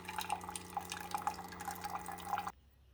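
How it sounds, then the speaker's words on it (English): A Keurig K-Cafe latte and cappuccino coffee maker running plain water through after its needles were cleaned: a steady motor hum under quick, irregular drips and trickles, moderately close, stopping abruptly near the end. "That's just going to run some water through here."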